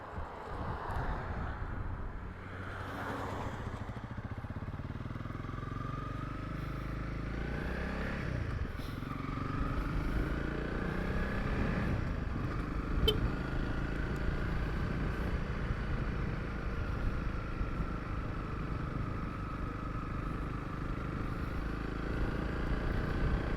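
Honda CRF 300 Rally motorcycle cruising along a country road toward the Franschhoek Pass, a steady engine drone with rising gear pulls under heavy wind buffeting on the microphone.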